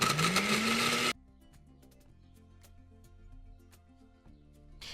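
A blender grinds Oreo cookies into crumbs in a loud, close whirring burst whose motor pitch climbs for about a second before cutting off abruptly, followed by near quiet with faint clinks.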